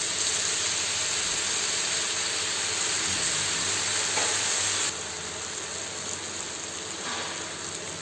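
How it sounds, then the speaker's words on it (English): Noodles for Singapore-style curry noodles are stirred in a pan on a high flame, giving a steady, close sizzle and hiss with soft scraping from the stirring, and no talk. "Now give it a nice stir on a high flame for at least a minute."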